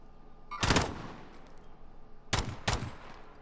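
Video-game gunfire in Call of Duty Warzone: one quick automatic burst, a pause, then two more sharp bursts in quick succession. The shots are fairly quiet and distant-sounding against a low background hum, with no voices.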